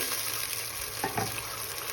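Two green chillies dropped into hot frying oil, with a steady sizzle and a brief louder crackle around the middle, heard close and alone.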